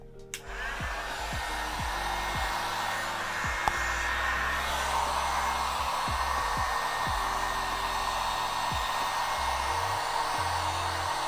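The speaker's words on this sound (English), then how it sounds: "Always important to keep the heat gun moving so you don't burn your hat." An industrial heat gun blowing hot air onto a hat, a steady loud whooshing roar that holds unbroken for the whole stretch, close up, with no talk over it.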